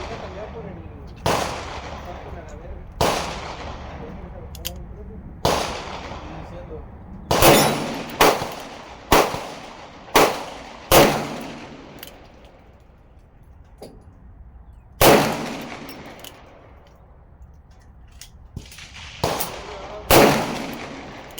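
Shots from a Colt Kodiak .44 Magnum revolver at an outdoor range, about a dozen loud, sharp reports at irregular intervals, some in quick pairs, each ringing out in a decaying tail.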